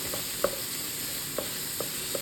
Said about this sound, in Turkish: sürekli karıştıra karıştıra soğanlarımızı kavurmaya başlıyoruz